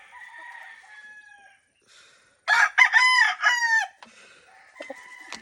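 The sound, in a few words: Golden Boy sweater gamefowl rooster crowing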